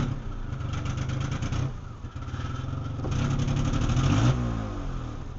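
A Metro car engine revving under throttle and bogging down, a steady mid-pitched drone that sags briefly before rising again as revs climb, close and continuous with no talk.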